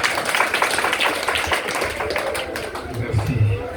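An audience claps at a church conference of the Tabernacle union de la Paix, a close, dense patter of many hands applauding steadily, with a voice speaking over it.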